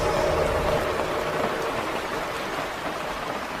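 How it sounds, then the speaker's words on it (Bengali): Steady rain falls as a sound effect in an animated horror story, a dense, even patter of drops on surfaces that holds constant throughout with no voices. "বৃষ্টি পড়ার শব্দ হচ্ছে"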